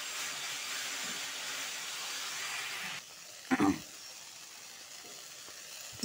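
Sliced okra frying in a pan for a home-cooked vegetarian chorchori, giving a steady broadband sizzle for a few seconds that drops quieter, broken by a brief clatter of utensil against pan.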